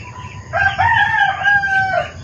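A Black Australorp rooster crows once, loud and close, a long drawn-out call rising then holding before trailing off over a low background murmur.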